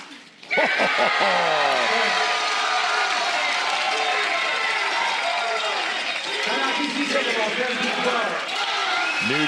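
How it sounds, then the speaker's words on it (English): A large crowd at a Major League Pickleball match in Central Park cheers and roars loudly and continuously, with ball pops and a commentator's voice over the noise. "Crowd going nuts here in Central Park"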